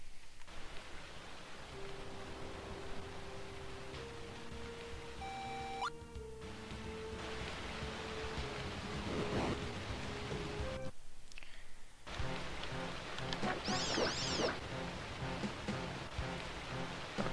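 Steady rain hiss from a custom rain sound effect in the game Zelda Classic fills the whole stretch, with scattered game-like tones and chimes sounding over it and a brief drop-out midway.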